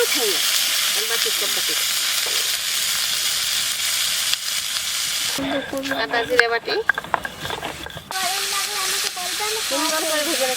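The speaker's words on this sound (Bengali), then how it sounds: "মাছটা আমার ভাজি হয়ে গেছে" Pakal (Bam) river fish fry in hot oil with spice paste, giving a steady crackling sizzle and hiss that continues while a person talks over it in the second half.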